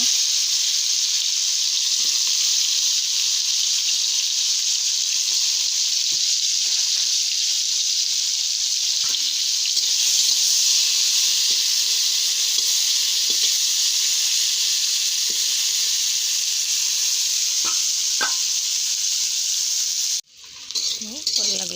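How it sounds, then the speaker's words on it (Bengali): Turmeric-coated food frying in hot oil in a wok, a steady, loud, close sizzle and hiss that runs unbroken almost to the end, with a few faint clinks of stirring. "কড়াতে তেল দিয়ে দিয়েছি তেলটা গরম হয়ে গেছে ভালো করে ভেজে নেব"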